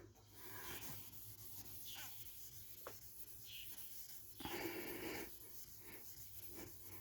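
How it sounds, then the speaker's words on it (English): Chrome scrubbed by hand with 0000 steel wool, a close, steady abrasive rubbing that swells and eases in long strokes, with a few brief knocks along the way. "you can even feel it get smoother and smoother as you're scrubbing it with this Quad Zero"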